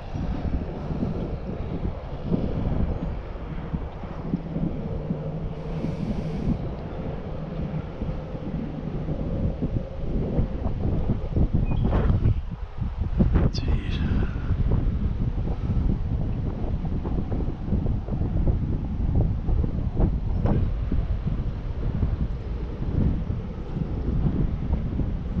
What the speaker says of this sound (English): A little bit of a crosswind today.